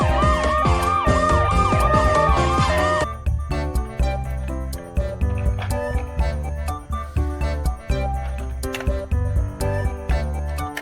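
A toy ambulance wails loudly with a rising and falling electronic siren for about two seconds. It then switches to a bouncy, repeating electronic tune that carries on to the end.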